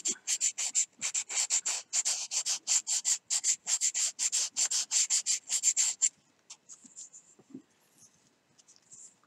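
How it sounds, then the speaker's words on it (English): Sandpaper rubs over a hand-carved wooden fishing lure in quick, steady back-and-forth strokes for about six seconds. A few faint, scattered scrapes follow as the work pauses, with no talking. "Run that sandpaper over it."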